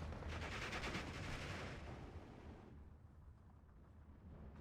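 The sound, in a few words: cannon firing in video game Steel Division 2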